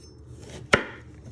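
A kitchen knife comes down once through a parsnip on a cutting board: one crisp, close chop that stands out sharply against quiet room tone.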